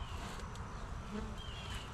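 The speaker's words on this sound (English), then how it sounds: "But these bees are very calm." Honey bees at a hive during an October inspection hum in a soft, continuous buzzing drone, with individual bees flying close past now and then and no talking.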